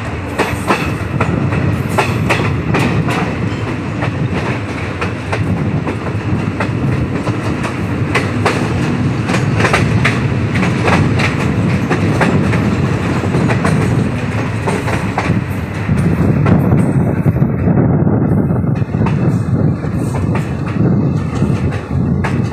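Train rolling along rails on the Sitapur Junction–Sitapur City line during track doubling, with a continuous loud rumble and rhythmic clickety-clack of wheels over joints, close and steady throughout.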